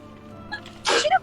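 One sharp sneeze from a person seated close by bursts out near the end, loud and abrupt against a quiet room with a faint murmur before it.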